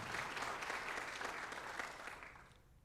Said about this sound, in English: Round of applause for Matthew as he signs for football at ECC